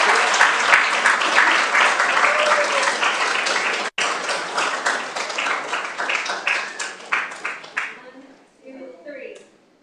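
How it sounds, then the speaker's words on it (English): Loud, dense applause fills the chamber at a city council meeting, holding strong for several seconds before thinning into scattered claps and fading, with a few voices emerging near the end. "Let's give them a big round of applause"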